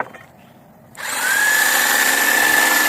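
A Dnipro-M JS100LX jigsaw switched on with its light and blower running, starting after a quiet moment and then holding a steady loud whine with a high sustained tone.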